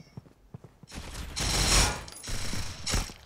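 Bursts of gunfire in the mobile shooter game Critical Ops: a few scattered single shots, then sustained loud automatic fire in two or three long sprays, with no talking over it.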